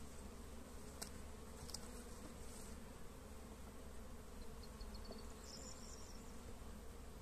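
Honeybees buzz steadily in an open hive during a beekeeping inspection, a dense continuous hum, soft and close, with a few brief louder passes of individual bees.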